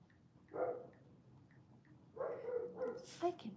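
A dog barks and yips in a few short bursts nearby, with a longer run of barking toward the end over a soft background.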